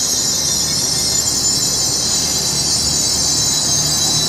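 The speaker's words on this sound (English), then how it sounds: "Now I'll move over here for the 158 that's departing." A Class 158 diesel train departing Peterborough station on the East Coast Main Line: a loud, steady rail roar with high wheel squeal sustained throughout, close by and unbroken by any talking.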